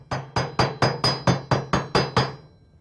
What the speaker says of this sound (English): use the chipping hammer to get off the slag.